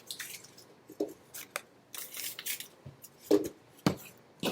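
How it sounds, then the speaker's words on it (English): Slips of paper crumpled by hand, giving a close, quiet run of dry crinkles and crackles in bursts with short pauses, with no voices. "Now the next thing to do is to just crumple these things up again."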